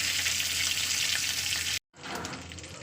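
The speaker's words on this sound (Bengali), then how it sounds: "আমি গ্যাসে কড়া বসিয়ে দিয়েছি দিয়ে তেল দিয়ে দিলাম ফোড়নের জন্য দিয়ে দিচ্ছি কটা শুকনো লঙ্কা দিয়ে দিচ্ছি কিছু জিরে" Dry red chillies and cumin seeds crackle and sizzle loudly in hot oil in a kadai on a gas stove, with a short break before the frying sound resumes.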